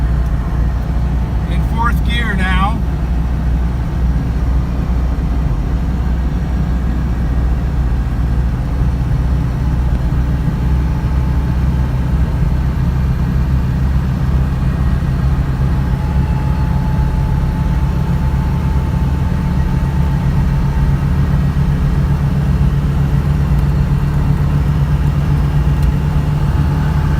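A 1985 Subaru GL wagon, a five-speed dual-range 4x4, cruises in fourth gear with a steady low engine drone and road rumble heard from inside the cabin, constant and loud throughout.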